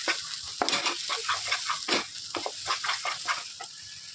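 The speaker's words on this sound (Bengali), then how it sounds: "কড়াইতে ভালো করে নাড়াচাড়া দিয়ে চাল ফেলে নেবো।" Fish mixture for fish balls being stirred in a kadai, with continuous sizzling and frying under repeated scraping stir strokes close up, no talk.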